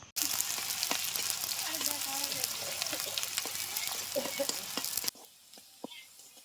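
Sliced onions deep-fry into crisp beresta in a wok, giving a loud, dense, continuous crackling sizzle close up for about five seconds before it drops away to quieter kitchen clinks.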